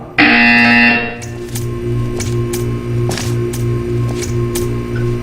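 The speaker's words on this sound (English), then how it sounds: "You will hear a buzzer." In Portal 2, a loud electronic buzzer sounds for about a second, then gives way to a low rhythmic pulsing hum with faint clicks.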